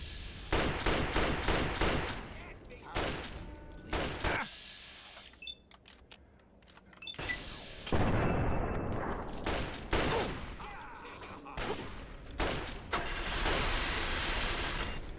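Pistol fire from a .32 caliber handgun in the video game Fallout 3: bursts of loud, sharp shots in rapid, irregular volleys with brief pauses, over low background game noise.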